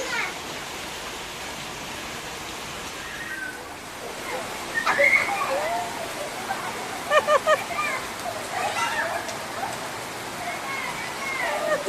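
Steady rain falls outdoors while children play, a constant soft hiss with a few brief shouts and voices cutting through in the middle.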